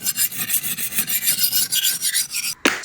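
Knife blade sharpened on a Rolling Stone Pro at 15 degrees with a 360 grit stone, a rapid run of rhythmic rasping strokes, close and crisp, ending in a brief sharp scrape.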